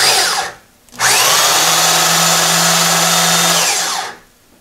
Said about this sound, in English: I'm gonna drill a hole for a set screw.